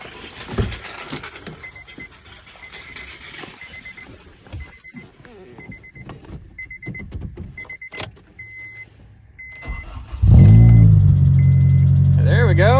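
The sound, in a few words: car engine starting and running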